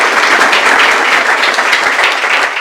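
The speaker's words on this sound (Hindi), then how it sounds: "तालियां बजाओ भी लड़के के लिए।" A room of listeners breaks into dense, loud applause for a student. The steady clapping fills the whole stretch with no talk on top.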